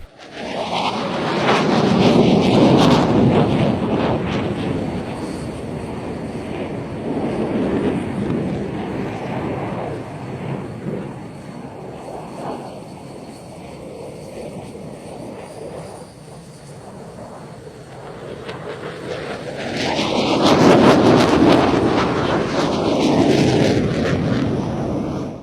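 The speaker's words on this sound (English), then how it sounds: "The F-16 completes the loop and goes straight into its own 360." An F-16 and a JF-17 fighter jet fly aerobatic loops and 360-degree turns at an air show, their engines roaring loud in two swelling passes with a quieter stretch between.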